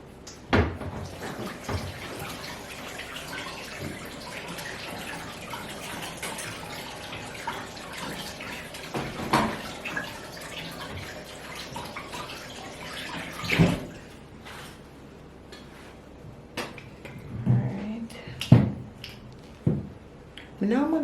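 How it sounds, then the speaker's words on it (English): Dirty produce is rinsed under a running kitchen tap, a steady stream of water with squishy rubbing and splashes, while a person talks over it, followed by a few sharper knocks and handling sounds near the end. "they're really dirty, so I'm gonna wash them off"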